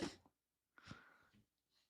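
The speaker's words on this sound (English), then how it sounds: "Hold on. I got to sneeze." A single close, sharp sneeze followed by a short breathy exhale, otherwise quiet.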